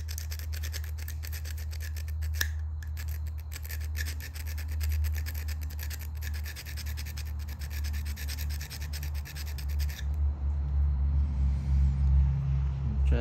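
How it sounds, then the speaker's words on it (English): A small flat diamond grinder grinds a flat spot on a flint preform during Folsom point flintknapping, giving a steady, close, rasping scrape for about ten seconds before the sound changes. "This is just a little flat grinder, diamond grinder. I'm gonna grind a little flat spot right on that nipple."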